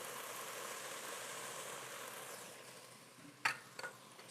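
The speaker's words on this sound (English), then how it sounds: "Stir that around a little bit more." Ground pilau spice stirred into a hot pot, a soft steady sizzle that fades gradually, followed by a few sharp scraping knocks of the spoon near the end.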